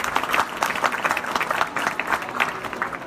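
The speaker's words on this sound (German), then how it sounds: "Finde ich, hat einen kleinen Applaus verdient." A panel-discussion audience on stage at a food-waste event gives a short, steady round of clapping, dense and fairly close, without pause.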